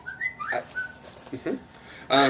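A phone notification whistles in a quick bird-like tweet of a few short rising chirps, fairly close and set against people talking in an interview.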